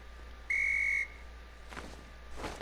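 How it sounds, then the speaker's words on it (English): A single clean, tonal whistle blast lasting about half a second in the video game The Tomorrow Children, standing out clearly over a faint background hum, followed by softer breathy sounds. "blow your whistles with L1 to call your comrades"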